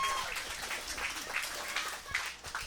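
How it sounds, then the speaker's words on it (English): Wedding guests applaud a man in uniform as he comes up, with fairly soft, continuous clapping from a small crowd, with faint voices underneath. "Give him a round of applause."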